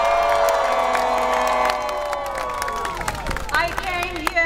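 A massive crowd at a political rally in Chisinau cheers and claps continuously, with a dense wash of voices and whistles that shifts near the end into scattered shouts.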